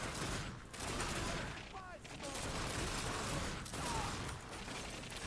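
Dual pistols firing in the video game The Darkness II, heard as dense, fast bursts of gunfire layered with mechanical clatter and game effects, loud and close throughout with brief lulls.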